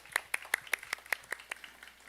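Sharp, evenly spaced hand claps, about ten in a steady beat, ring out close and clear at a youth worship festival service for a middle school group in a church sanctuary. No voices are heard.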